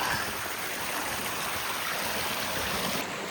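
A mountain spring in Skarðsdalur, northern Iceland, flowing in a steady close rush of water, continuous and fairly loud, with no voices.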